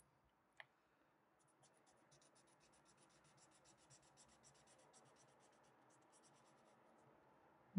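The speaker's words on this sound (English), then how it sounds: "Such a cool sound, isn't it?" Markers colouring on paper, a quiet continuous scratchy rubbing of felt tips stroking back and forth close up, with a single sharp tap near the start.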